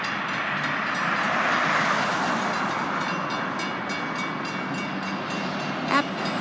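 A freight train rolls through a road crossing at Fern Hill Road and Highway 47, giving a steady rumble and faint wheel clatter at moderate distance, fairly quiet and without talk.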